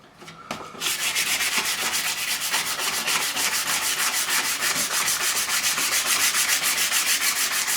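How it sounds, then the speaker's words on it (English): Steady back-and-forth sanding of a guitar neck with 240 grit sandpaper, a loud, close, continuous rhythmic rasp of paper strokes on wood, heard alone after a brief start. "Just a little bit more sanding with some good 240 grit sandpaper"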